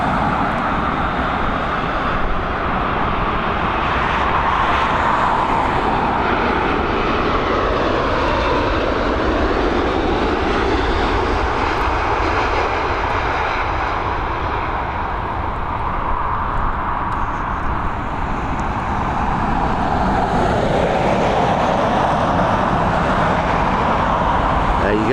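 A WestJet Boeing 787-9 jet landing at Dublin Airport, a steady broad roar of engine and airflow that swells near the start and end, heard from a distance with continuous wind-like rush.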